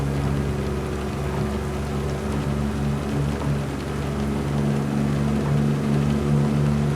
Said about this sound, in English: I just love the sound of this Cummins Signature 600.